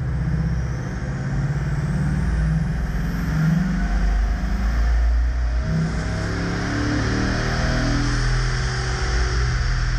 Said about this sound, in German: Der Mitarbeiter beschleunigt auf 200 Kilometer pro Stunde.